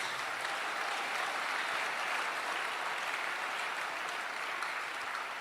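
Church congregation applauding together, a dense, steady wash of clapping that fills the space at constant loudness from start to finish.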